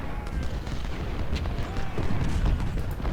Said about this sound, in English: Our 20-pounders are now in range of the enemy artillery.